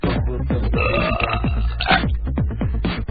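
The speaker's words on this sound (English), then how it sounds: "you'd be able to hear me belch in stereo" A man lets out a long, loud, rumbling belch, close to the mic and continuous for several seconds, with a rough, pulsing guttural texture and no talking.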